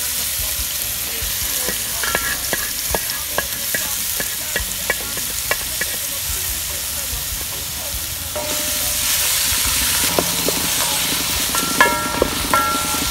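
Tomato and onion fry in a pan with a loud, continuous sizzle, broken by many sharp ticks and spatters from stirring, and the hiss swells noticeably once the onion goes in; no talking.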